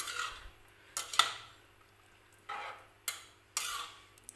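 Masala rice being stirred in a pan with a spoon, several short scraping strokes coming in separate bursts with quiet pauses between them, close and fairly soft.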